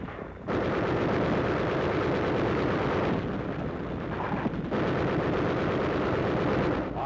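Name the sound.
machine gun fire in 1945 combat newsreel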